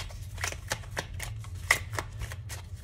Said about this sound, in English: So I'm just going to keep shuffling